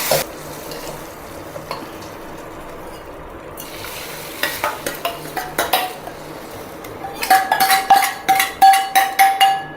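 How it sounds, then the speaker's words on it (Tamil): Tempering is mixed into buttermilk seasoned with asafoetida and salt for Kerala mor kulambu, with a soft sizzle at first and then a run of quick, rhythmic spoon clinks against a steel vessel that grows louder toward the end. "அந்த மோரோட இப்படி கலந்து விட்டுருவேன்"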